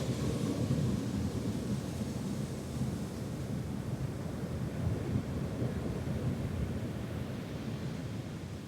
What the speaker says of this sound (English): just enjoy the sound of the waves